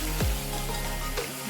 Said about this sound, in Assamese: ভালদৰে এই মাংসখিনি পিঁয়াজৰ লগত ভজা হৈ গ'লে